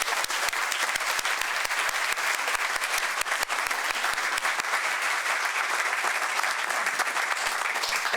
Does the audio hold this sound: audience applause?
yes